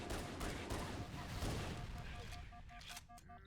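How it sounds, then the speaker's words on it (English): Rapid automatic gunfire rattles in bursts during a Halo firefight against an elite on the Pillar of Autumn, dense and continuous, with brief electronic tones near the end. "Just going to unload on this elite."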